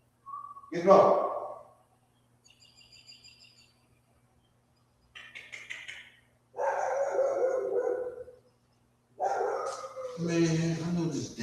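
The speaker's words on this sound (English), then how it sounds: "Gotta let this dog in." A dog barking in a home, a few loud close barks with short yips between them and quiet gaps, heard alongside someone talking.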